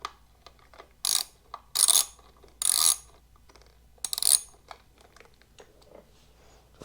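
A 1/8 hex key works the bolts on a Harley-Davidson Street Bob 114 air filter, giving several sharp metallic ratcheting bursts about a second apart and then lighter scattered clicks, close and otherwise quiet.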